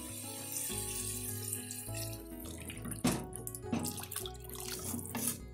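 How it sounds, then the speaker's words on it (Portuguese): Water being poured into a pan of sautéed chayote for soup, a steady running splash under background music, with faint clatter of the pan. "agora eu vou adicionar a água."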